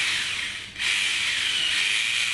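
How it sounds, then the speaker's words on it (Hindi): Power drill boring into a surface to mount a cassette air conditioner, a steady high whirring grind that dips briefly, then resumes and runs on at moderate level. "तो ये ड्रिल हो रहा है।"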